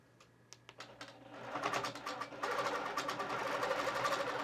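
Sewing machine stitching a quilt with a regular stitch, starting with a few quiet clicks and then running into a steady, rapid close-up whirring chatter.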